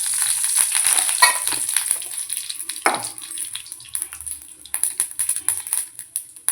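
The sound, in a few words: spices sizzling in hot oil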